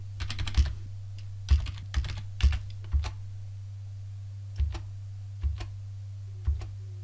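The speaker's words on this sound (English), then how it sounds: "we'll simply type SSH-keygen at the prompt and accept all the defaults." Keystrokes on a computer keyboard as an SSH key generation command is entered, arriving in short sparse bursts of clicks separated by pauses, close and clear over a steady low hum.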